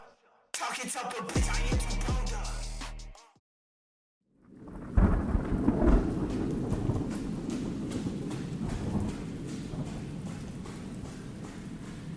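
A rain and thunder storm: a loud burst of rumbling and crackling gives way after a brief silence to steady heavy rain with a deep thunder rumble, no voices.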